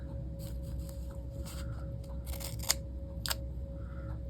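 Scissors trim paper in a series of quick, crisp snips, close and fairly quiet, with irregular spacing and a couple of sharper cuts near the end.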